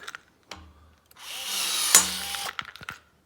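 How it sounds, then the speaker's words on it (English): A Milwaukee M12 cordless rivet tool whirs twice in short bursts, then runs for a longer pull that ends in a sharp snap as the rivet sets, followed by faint handling clicks in a quiet room. "I have the Milwaukee M12 rivet tool with the long dangly on it"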